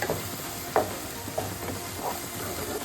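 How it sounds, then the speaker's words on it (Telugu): Mint leaves frying in a pan for pulao, a steady sizzle with a few soft stirring scrapes over about three seconds. "ఈ పుదీనా అంతా పచ్చివాసన పోయి మంచిగా ఫ్రై అయ్యే వరకు ఫ్రై చేసుకోవాలి."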